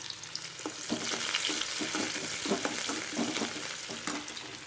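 Finely chopped onion fries in a pan for a soya masala curry, a steady quiet sizzle punctuated by regular stirring scrapes that come in a loose rhythm throughout.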